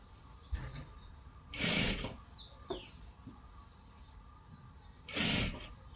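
A sewing machine stitches a salwar in two short loud bursts separated by a quieter stretch, with faint clicks and rustling in between.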